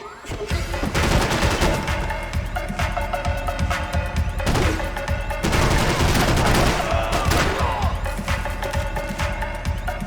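Rapid gunfire from a golden gun in Max Payne 3, a loud, dense barrage of shots layered with other weapons and game noise, sustained throughout with brief lulls.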